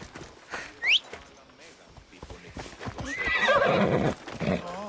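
A horse in the video game Assassin's Creed Odyssey gives a loud whinny, then its hooves clip-clop steadily while a rising neigh builds near the end, with a short whistle early on and a voice speaking underneath.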